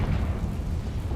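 A Confringo blasting spell explodes in Hogwarts Legacy, a loud, dense roaring blast with heavy low rumble that fills the whole moment without pause.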